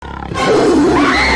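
A short, loud, throaty roar from a tiger swells quickly and holds for about a second, with a rough growling edge.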